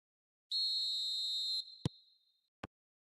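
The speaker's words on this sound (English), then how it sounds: "There's the whistle." A referee's whistle in the eFootball 26 mobile football game gives one long, clear, high-pitched blast, followed by two short sharp clicks.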